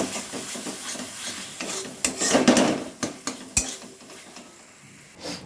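A spatula scrapes and stirs a spice paste with ground melon seed in a pan over a low-to-medium gas flame, giving soft rubbing sizzle and irregular sharp metallic clinks, close by.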